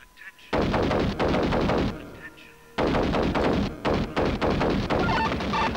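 Rapid bursts of automatic gunfire in a video game, loud and close, firing in long runs with a short pause after the first volley and then a dense stretch of repeated shots.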